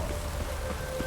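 Steady rain falls in a video game, a soft, even patter and hiss that holds for about a second with no voices.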